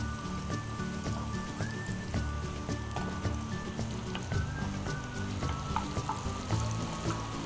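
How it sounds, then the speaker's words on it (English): Onions and crushed garlic fry in hot oil with a soft, steady crackling sizzle and occasional pops, fairly quiet beneath background music. "Once the oil is hot, you add the onions. Next, you add the garlic, the crushed garlic."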